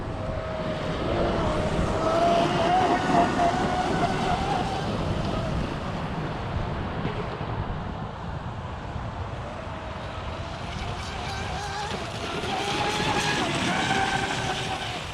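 A Proboat BlackJack 42-inch RC speedboat runs on water on a windy day, its steady, fairly loud electric whine holding throughout under rushing wind noise, with a faint voice underneath.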